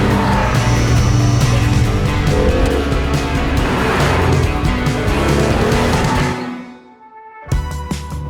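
An Alfa Romeo 147 GTA drives past loud and close with a dense engine roar, which fades out near the end before a short sharp knock.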